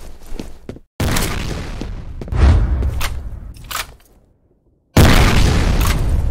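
A heavy, close grenade blast booms in the multiplayer shooter F.E.A.R. Combat, followed by scattered gunfire and pops, a sudden cut to silence, then another loud burst.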